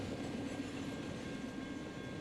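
A BNSF coal drag train rumbles past as a steady, distant low roar of rolling railcars, faint and continuous with no voices.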